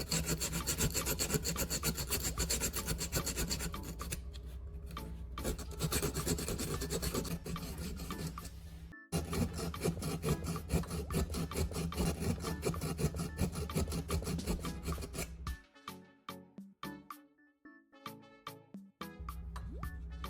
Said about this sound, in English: Continue sanding the two contact terminals of the battery.